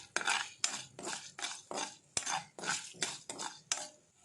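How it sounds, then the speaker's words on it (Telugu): About two tablespoons of coriander seeds are fried in oil and stirred with a metal spoon in a pan, a series of roughly ten quick, close scraping clinks in a steady rhythm. "ముందుగా ఓ 2 టేబుల్ స్పూన్స్ ఆఫ్ ధనియాలను ఇట్లా ఫ్రై చేసుకోవాలండి ఆయిల్లో"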